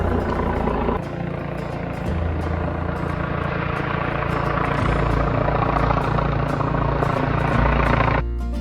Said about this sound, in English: You can hear there's a helicopter going over, I think.